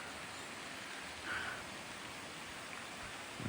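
Steady broadband rush of Stresleki Creek flowing over its bed in the Lady Northcote Canyon area, a continuous even wash with no other sounds standing out.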